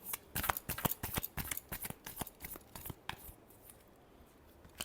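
Tarot cards being shuffled by hand at a reading, a quick run of crisp papery riffs and flicks, close and moderately loud, tapering to softer rustles near the end, with no talking.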